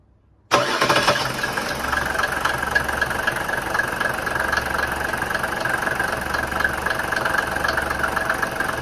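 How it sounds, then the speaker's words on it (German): A Mercedes W124 300TD wagon with an OM 603 naturally aspirated six-cylinder diesel cranks and fires abruptly, then settles into a loud, steady, clattering idle up close. "Das ist der OM 603 Diesel, rein 6-Zylinder Sauger."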